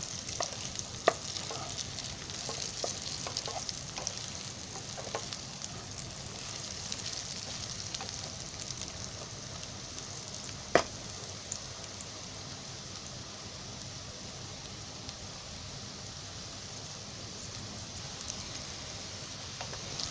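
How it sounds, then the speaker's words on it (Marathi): Fenugreek leaf vegetable rolls fry in a pan with a steady, even sizzle, punctuated now and then by the sharp clicks of stirring, with no voices. "असे 1-1 मिनिटांनी आहे ना असे चांगले ढवळून घ्यायचे, म्हणजे ते आत बाहेर असे म्हणजे सगळीकडे आहे ना गोल भाजले पाहिजेत"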